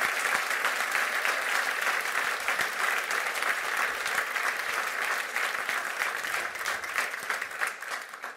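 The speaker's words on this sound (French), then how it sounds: "Vos applaudissements pour nos fonctionnaires." A crowd at a New Year's wishes ceremony claps for municipal staff, thick steady applause from many people, sustained and even before easing off slightly at the close.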